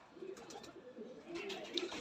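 Caged pigeons coo softly in low, rolling murmurs, several overlapping calls close by but faint, with a brief higher chirp near the end and no talk.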